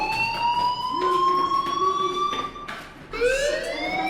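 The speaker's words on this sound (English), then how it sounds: "Hey, do you hear that fire alarm?" Fire alarm going off in the video game Life is Strange: a steady, loud electronic siren tone that rises and falls in pitch, sweeping upward in repeated cycles with no talking over it.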